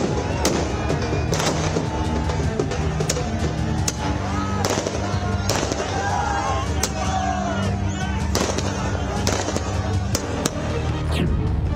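Firecrackers burst in rapid, irregular pops and bangs in the street during celebrations of India's cricket win over Pakistan in Muzaffarpur, with a steady hum of crowd noise and voices running underneath.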